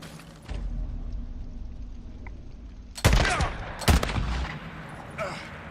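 Gunfire in the video game Days Gone, aimed up at a sniper on a rocky perch: two sharp, loud gunshots ring out a second apart over an outdoor game ambience, followed by a fainter third.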